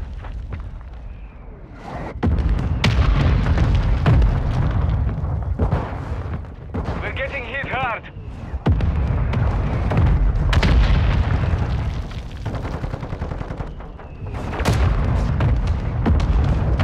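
Artillery strike in the shooter game Call of Duty: Modern Warfare II, with heavy booming explosions rumbling almost continuously, sharp blasts layered on top and a brief whining tone partway through.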